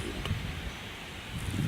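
Cold, brisk November wind rustles leaves around a bow-hunting stand in Michigan, a soft, steady, airy hiss with slight gusts swelling near the end.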